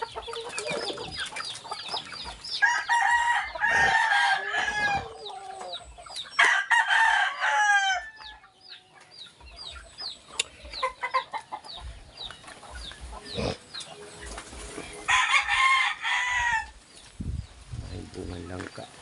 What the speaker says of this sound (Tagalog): Ito ang manok, mga manok ito dito.